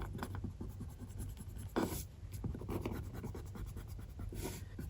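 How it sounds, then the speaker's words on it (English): An eraser rubs pencil markings off delicate ATM receipt paper in close, soft scratchy strokes, repeated in quick bursts with one brief louder scrape. "First, I need to start by erasing the pencil markings on this one."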